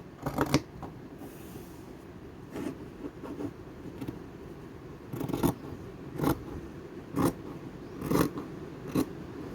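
Scissors cutting through a piece of floral fabric for a stitched collage: a series of close, crisp snips at an uneven, unhurried rhythm, each blade closure distinct against a quiet room background, with no talk.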